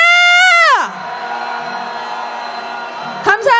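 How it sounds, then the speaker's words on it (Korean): A protest crowd at a candlelight march calling for President Yoon Suk-yeol's impeachment roars in anger at Kim Keon-hee: a loud single voice rises and hands off to a sustained, massed shout lasting several seconds, with another voice cutting in at the end. "김건희에 대한 분노 함성 시작!"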